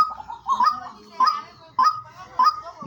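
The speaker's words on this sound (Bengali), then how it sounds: "দেখেন পাখি ডাকতেই আছে কোনো সময় ডাক বন্ধ নাই" A white-breasted waterhen calls over and over, loud and close, in sharp repeated honking notes that come in regular bursts about every half second to second, with a faint voice in the background.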